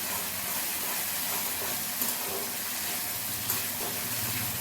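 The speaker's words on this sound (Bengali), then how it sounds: "সামান্য একটু জল দিয়ে মশলাটাকে খুব ভালো করে এখন কষিয়ে নেবো" Ginger, onion and garlic spice paste with turmeric and a splash of water fries in a pan over a medium gas flame for a bottle gourd curry, giving a constant soft sizzling hiss with faint pops.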